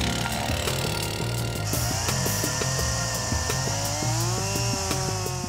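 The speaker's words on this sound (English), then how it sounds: "To speed up the process, Naked Science calls in the chainsaws." Chainsaws cut through wood to build a boat, with a loud continuous engine whine and shifting pitch as the blade bites in, close and unbroken throughout.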